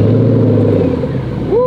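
A Ford GT engine gives a loud, steady, close rumble that holds for a moment without a clear rise in pitch.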